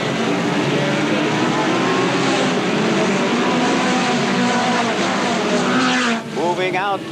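Outlaw midget race cars roaring around a track in 1982, a loud continuous engine drone with a car accelerating out of a corner, under an announcer calling the race.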